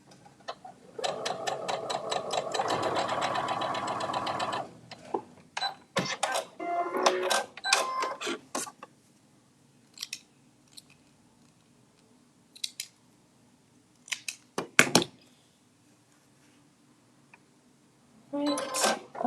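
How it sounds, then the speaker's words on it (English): A sewing machine chain stitches fabric in a fast rattling burst, followed by shorter stop-start runs and isolated clicks and clacks of handling between quiet gaps. "I'm just going to chain stitch these."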